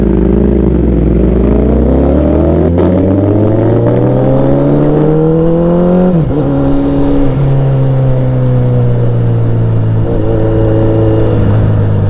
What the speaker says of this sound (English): Damn, that is so damn loud, that Acropoic exhaust.